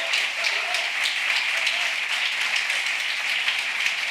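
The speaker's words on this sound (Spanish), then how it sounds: "Pido que le deis todos un fuerte aplauso a Fernando Navarro." A book-fair audience applauds at the close of a talk, dense steady clapping filling the hall throughout, loud and close with no speech over it.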